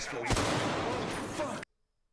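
Sniper rifle shot in the Call of Duty DMZ video game: one sharp, loud report at the start, followed by a sustained dense rumble of game sound and echo that cuts off abruptly into silence.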